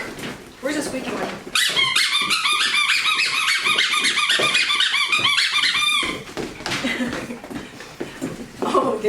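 A squeaky toy squeaks rapidly and repeatedly, loud and close, among six-week-old F1B Aussiedoodle puppies, with brief puppy noises and some background chatter around it.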